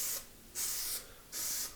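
Spray paint can spraying in three bursts, each a steady hiss of about half a second with short pauses between, close and fairly loud with no talk.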